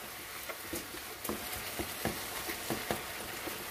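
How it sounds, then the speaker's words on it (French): Meat frying in a pan on the stove with a steady sizzle and soft crackles, occasional stirring taps, no talk. "Je vais laisser le tout sur le feu, les faire cuire jusqu'à ce que tout soit bien cuit."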